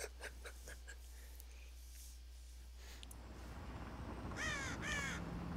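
Crows caw in a game's funeral scene, two bursts of harsh calls near the end over a low ambient hum, with faint clicks earlier.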